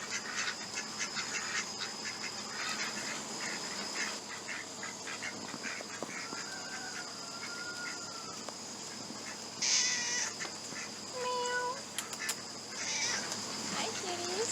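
Several cats meow in short, scattered calls up close outdoors, mixed in among a person's speech and busy background noise.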